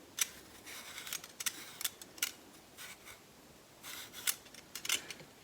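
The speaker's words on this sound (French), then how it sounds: "Elle râpe les carottes, mais aussi elle coupe les mini slices." A handheld vegetable cutter grating and slicing carrots, giving a series of short, scratchy rasping strokes in irregular bursts, close by and fairly quiet with small gaps between passes.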